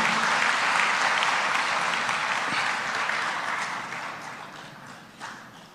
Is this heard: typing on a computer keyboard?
no